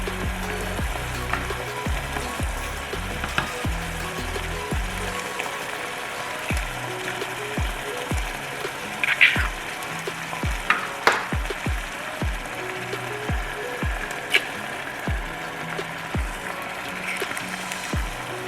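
Shakshuka with about five eggs sizzles in a pan, a steady frying hiss under repeated ratcheting clicks and small clatters from the stove and utensils, with no talking.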